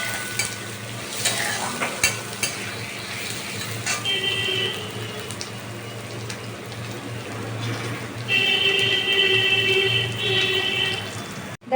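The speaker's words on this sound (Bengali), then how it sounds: "এবার আলুটাকে আর পেঁয়াজটাকে ভালো করে আমি ভেজে নেব" Quartered potato and onion fry in a pan with oil, a steady hiss and crackle near at hand with scraping stirs, swelling louder toward the end, while a low hum runs underneath.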